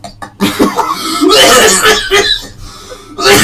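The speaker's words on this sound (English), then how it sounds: "he just coughed up every single organ from his body just there" Heavy, harsh coughing fit in a podcast studio, a rapid run of rough, loud hacking bursts close to the microphone, with voices and laughter mixed in around it.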